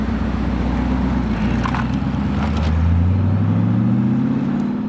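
Twin-supercharged 750 hp Audi R8 engine revving up loudly and steadily, its low droning note climbing in pitch over several seconds, close by with no talk.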